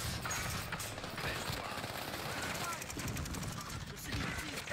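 Gunfire in a video game's Resurgence mode, a steady rattle of rapid shots running throughout at a fairly low, distant-sounding level, with faint game sounds mixed in.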